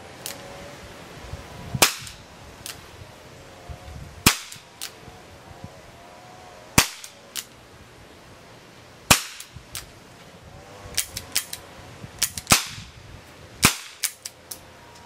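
Revolver firing Speer plastic training bullets and Aguila .22 Colibri rounds, a series of sharp, light pops spaced irregularly over fifteen seconds, each crack short and snappy with a quiet background between shots.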